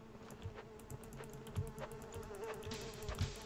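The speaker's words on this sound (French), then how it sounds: "Y'a des mouches qui buzzent en arrière à fond la caisse." Loud, steady buzzing of flies in a video game, a continuous insect drone with fluttering pulses that runs the whole time without speech.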